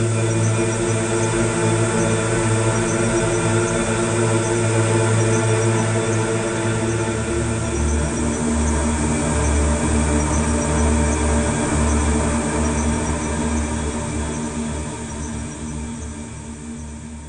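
Secret Path atmosphere preset from Pigments, with both granular engines running, forms a dense, shimmering sustained pad with a grainy texture, and its low end shifts partway through before it slowly fades; no voices.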